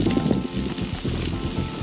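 Butter-and-garlic-coated lobster tail sizzles on a grill, giving a steady, dense hiss and crackle close up throughout, with no talking.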